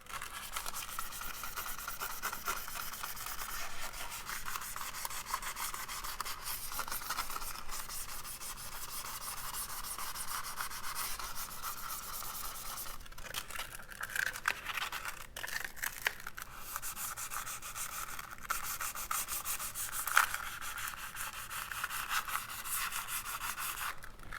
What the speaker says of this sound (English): I'm going to also use this 120 grit sandpaper in order to rough it up a little bit